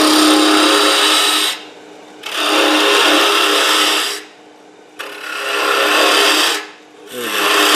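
A woodturning tool cuts into spinning wood on a lathe, giving loud, steady rasping scrapes in three long passes separated by short quiet pauses, with no talking.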